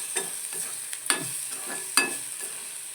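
Raw masala for poha is stirred in a hot pan. A continuous crackling sizzle sits under rhythmic spatula scrapes that repeat about every half second, with a few sharper taps.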